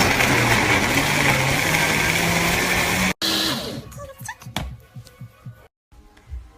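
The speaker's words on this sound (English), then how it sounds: "I'm going to secure my lid and I'm going to blend for 1 to 2 minutes." A countertop blender whirs loudly and steadily as it blends almonds with water for almond milk, then cuts off abruptly, followed by scattered clatter and a faint dog whimper.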